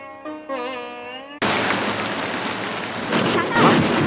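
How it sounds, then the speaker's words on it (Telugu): Heavy rain bursts in suddenly after a short sustained tone, then pours as a loud, dense, steady hiss with deep rumbles swelling beneath it, close and continuous to the end. "వర్షం వస్తుంది"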